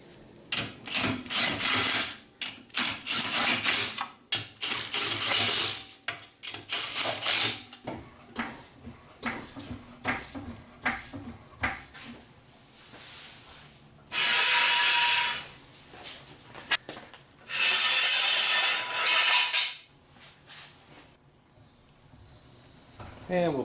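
Ratcheting lug nuts while refitting a wheel on a 1996-2000 Honda Civic, with bursts of rapid buzzing ratchet clicks separated by clanks and handling noise, and someone talking in between.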